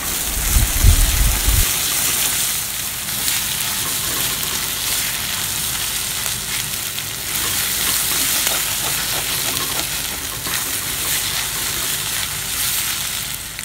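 Two eggs fry in a pan for egg parotta, a loud continuous sizzle with a thumping clatter at the start and busy stirring scrapes throughout, no voices.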